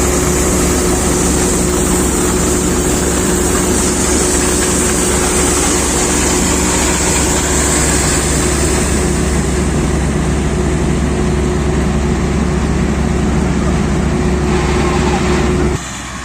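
A Sampo 500 combine harvester threshes barley and wheat with a loud, continuous engine and machinery drone. The drone holds steady and then cuts off abruptly near the end.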